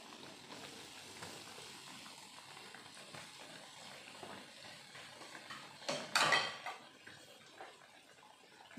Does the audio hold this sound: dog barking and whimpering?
no